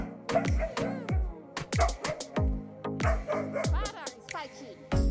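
Several dogs and puppies barking, yipping and whimpering in rapid overlapping bursts, close and loud, with a person talking over the commotion.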